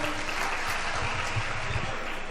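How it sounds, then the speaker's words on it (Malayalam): Audience applause at an Onam celebration stage show, honouring a past president about to sing; dense, steady clapping from a crowd fills the whole moment at even loudness. "എല്ലാവരും നമ്മുടെ പാസ്റ്റ് പ്രസിഡന്റിന് ഒരു നല്ല കയ്യടി കൊടുക്കൂ."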